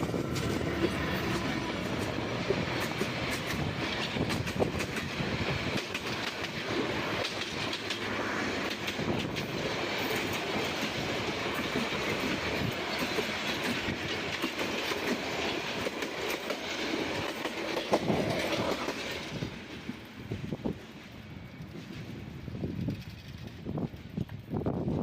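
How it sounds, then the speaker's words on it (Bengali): The Rangpur Express passenger train rolls past close by with a loud, continuous rumble and rhythmic clickety-clack of wheels on rails, sustained for about twenty seconds before the noise thins as the last cars pass. "উত্তরবঙ্গের নাম করা ট্রেন রংপুর এক্সপ্রেস।"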